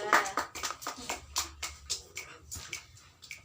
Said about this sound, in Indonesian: tepuk tangan buat Mbak Arin dari kelompok 2